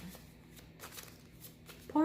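Tarot cards are shuffled in a soft, riffling series of papery swishes, close and fairly quiet, with a voice speaking faintly at the end.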